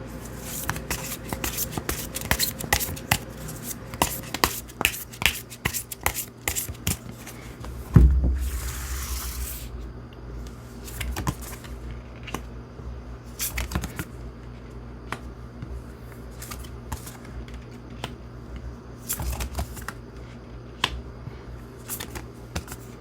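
Tarot cards are shuffled and drawn, with crisp repeated flicks and snaps in irregular bursts, one louder thump partway through, close and alone without talk.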